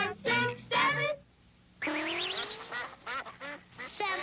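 Several duck quacks in short bursts, loud and close, separated by brief pauses, with a longer wavering honk-like call in the middle and no talking.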